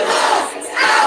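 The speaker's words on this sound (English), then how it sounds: "The crowd is chanting." A protest crowd at a vigil chants in unison, a loud, massed roar of voices that dips briefly in the middle and then swells again.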